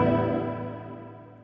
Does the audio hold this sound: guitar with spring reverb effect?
yes